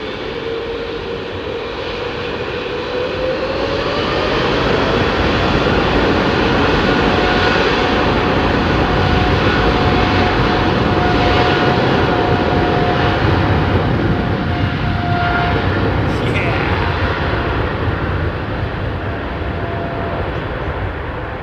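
A large airliner at London Heathrow roaring past, a powerful sustained jet-engine rumble that swells over the first few seconds and holds loud and close, with a faint whining tone sweeping through it.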